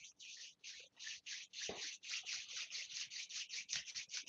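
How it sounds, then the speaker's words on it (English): Palms rubbing together steadily during a slow qigong exercise, a soft close swishing in regular back-and-forth strokes, repeated continuously without pause at low volume. "Gently rubbing your palm together."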